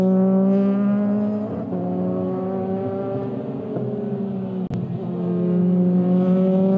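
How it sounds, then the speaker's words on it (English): Race cars lapping the Estoril circuit during Euroformula Open qualifying, a loud steady engine drone holding pitch with brief shifts as cars pass, continuous throughout with no voices. "So when all the drivers now cross the line, it will be to start their final lap of this qualifying period."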